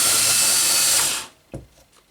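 A cordless drill with a nearly dead battery bores a hole in foam, whirring loudly and steadily for about a second before winding down and stopping, followed by a couple of faint knocks.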